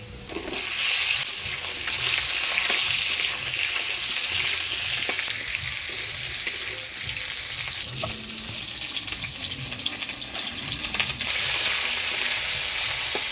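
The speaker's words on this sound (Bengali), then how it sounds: "ফোড়নের তেলে আলুটা নাড়াচাড়া করে নিলাম, এবার দিয়ে দিব পটল।" Potato and pointed gourd fry in spice-tempered oil, a steady loud sizzle with occasional stirring scrapes running throughout, no voices.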